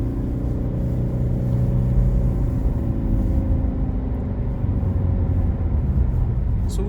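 A car accelerating as it merges onto a major road near Bletchley, a steady engine hum and tyre rumble from inside the cabin that rises gently and holds even, with no talking.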